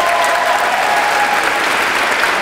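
Steady, dense applause from an audience at a poetry slam, honouring a poet after judges' scores are shown; loud, continuous and even throughout, with no talk over it.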